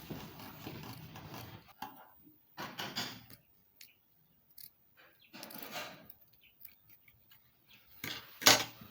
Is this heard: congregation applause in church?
no